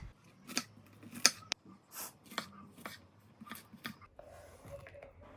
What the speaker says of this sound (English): Cutting some onion and garlic.